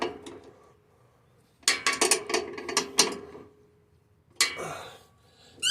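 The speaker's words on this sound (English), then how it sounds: "we'll just tighten up this spring" Tightening the chute spring on an Ariens Deluxe 24 snow blower gives off metallic ratcheting clicks and clanks in two bursts, close up and fairly loud, separated by quiet pauses.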